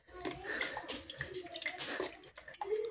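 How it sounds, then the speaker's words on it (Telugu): Water poured by hand over the side of a household gas cylinder, splashing in a steady run for about three seconds, close and fairly clear, with a faint voice in the background. "వాటర్ తీసుకొని ఇట్లా పోస్తున్నా చూడండి"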